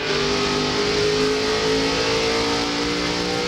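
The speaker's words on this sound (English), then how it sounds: "You could hear him downshifting going into turn 1." A NASCAR Craftsman Truck Series race truck engine roars loudly and steadily at high revs at Gateway International, downshifting into a turn, with a continuous, close mechanical drone and no talk.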